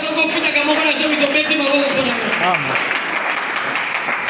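A church congregation claps steadily at a New Year's dawn service, a dense, continuous patter of applause filling the room while a voice briefly rises above it.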